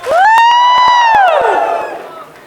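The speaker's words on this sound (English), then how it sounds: "Give me 2 claps and a Ric Flair." A live crowd at a Reebok CrossFit event in Boston claps sharply, then lets out a loud, sustained, rising-and-falling Ric Flair-style "woo" that fades out over a couple of seconds.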